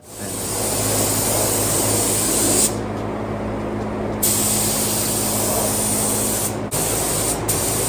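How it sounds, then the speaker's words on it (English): Spray gun hissing loud and steady at close range as epoxy primer is sprayed onto a 1969 Plymouth GTX car body during restoration, with brief dips where the trigger eases off. "We're gonna epoxy this in here and there's gonna be overspray."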